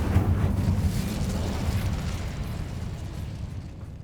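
Incendio fire spell cast in Hogwarts Legacy, a loud roaring burst of flame that swells at once and then rumbles and fades over several seconds, with no talking.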